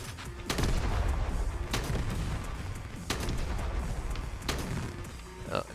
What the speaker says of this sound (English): Let's call an artillery there.